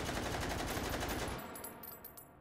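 Rapid automatic fire from a Czech gun shot from the hip in the VR game Hot Dogs, Horseshoes & Hand Grenades: a dense, loud burst of shots lasting over a second, then cutting off into fading echoes and faint clinks of ejected shells.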